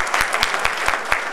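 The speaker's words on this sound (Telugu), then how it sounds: "కొట్టండి చప్పట్లు" Audience clapping at a political rally during the Hyderabad Million March, heard as a short burst of hand claps with a few sharper, heavier claps standing out at a fairly steady rhythm, with no voices over it.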